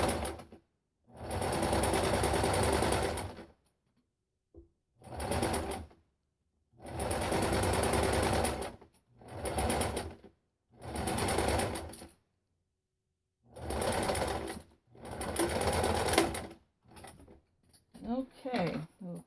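A sewing machine stitches in repeated bursts of a few seconds each, running back and forth to lock a knot while repairing a shirt cuff, with short pauses between runs and a brief snip at the end.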